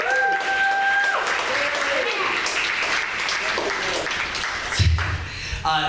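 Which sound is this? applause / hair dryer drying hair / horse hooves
applause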